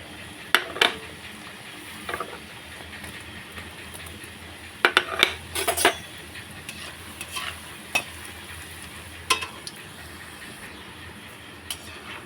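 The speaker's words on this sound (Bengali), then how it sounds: "এবার আমি কাজু বিস্কুটগুলো ভেজে নেবো" Cashew-shaped flour biscuits fry in hot white oil in a wok, giving a continuous low sizzle broken by sharp scraping and stirring clatters every second or two, with no voices.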